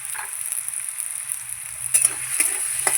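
Potatoes fry in a pan with salt and turmeric as they brown. A soft, steady sizzle runs throughout, broken near the end by a few close spatula scrapes and taps.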